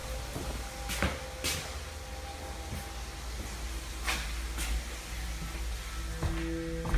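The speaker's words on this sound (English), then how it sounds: "The door slams shut and somehow nobody is on the other side." A door slamming shut in a basement, heard as several sharp thuds and knocks scattered across a low, rumbling background hum, with no talking.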